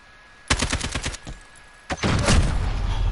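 Gunfire in Call of Duty Modern Warfare: a loud rapid burst of shots starts abruptly, trails off into scattered cracks, then a second heavy volley hits and rolls on with sustained rumbling to the end, all close and without talk.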